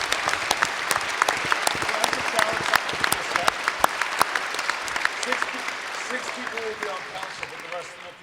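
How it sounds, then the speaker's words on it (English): Applause from the audience at a 2018 Chilliwack city councillors debate, a steady wash of many hands clapping for about eight seconds in a hall, with a few louder nearby claps standing out before it tapers slightly at the end. "let's give them all a round of applause for giving up their time."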